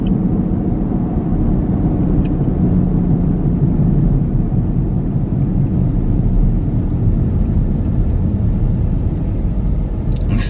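Steady low rumble of a car driving around in daytime, continuous road and engine noise from inside the cabin with no talking.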